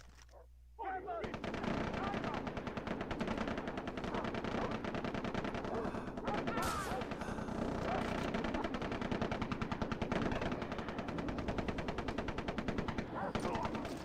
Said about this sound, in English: Okay, let's use the sniper rifle.